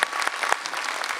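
A large convention audience of about a thousand people at a Comic Con Q&A panel claps for a young questioner, dense, steady applause from a crowd filling the hall.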